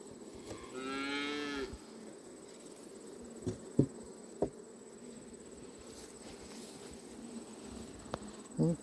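Honeybees buzz faintly around an open hive during a late-summer check, a soft steady drone beneath occasional clicks and knocks, with a low cow-like moo early on.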